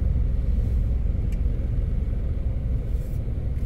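Steady road traffic on a street in Lahug, Cebu City, Philippines: a continuous low rumble of passing cars and motor vehicles, fairly close and even in level, with no voices.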